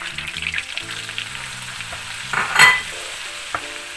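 Flour goes into frying butter for Black Sea muhlama, a soft sizzle beneath a brief scraping stir, with faint background music playing throughout.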